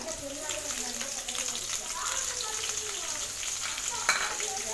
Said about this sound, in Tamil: வெங்காயம் வதக்கும்போது மீடியம் ஃப்ளேமில் வச்சு வதக்குங்க